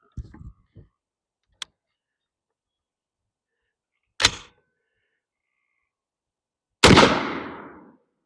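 A 5.56 rifle fired once from a 16-inch barrel with Critical Defense ammunition into ballistic gel, a sharp loud crack with a short echoing tail, preceded by a few small clicks and a brief handling knock.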